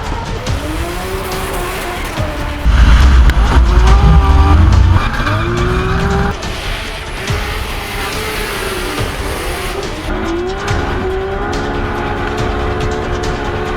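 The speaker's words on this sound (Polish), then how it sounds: "Drifting." High-powered drift cars scream through a slide with loud engine wails and sustained tire squeal, close and roaring, with a heavy low rumble surging midway through the run.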